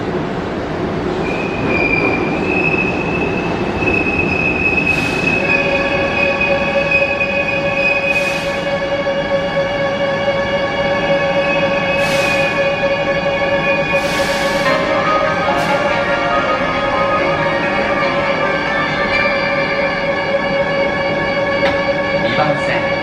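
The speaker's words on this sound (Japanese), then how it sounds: "2番線の電車はライナー出町柳行きです。" Keihan Railway Liner train bound for Demachiyanagi at Sanjo Station, a Kyoto underground terminal: steady rumble with long squealing wheel and motor tones rising and holding, plus sharp intermittent hisses, loud and close throughout.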